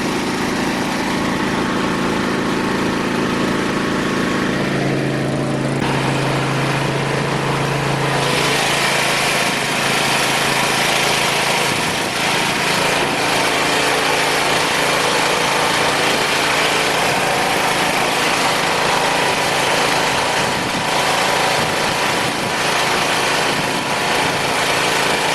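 Small tri-fuel generator engine running on natural gas at close range, a constant loud drone with a slight shift in pitch early on, holding its speed.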